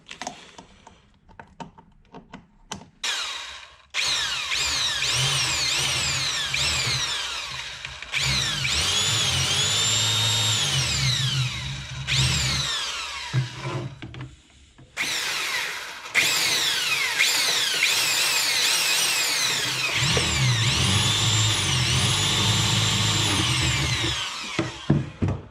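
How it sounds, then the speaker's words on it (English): A handheld power drill whirs in several long bursts while working on plastic parts of a Sherco SE250 enduro motorcycle in a garage, loud and close, with rising and falling motor pitch and brief clicks and handling sounds between runs. "I'm going to use this drill."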